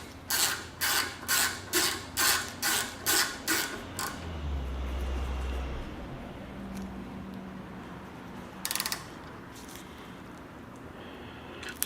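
A Pittsburgh flex head ratchet tightens a set screw with about nine crisp, evenly spaced clicks over four seconds, followed by a low rumble and quieter handling noises, with one more sharp sound near the end.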